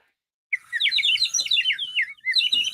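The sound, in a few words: toucan bird call toy worn around neck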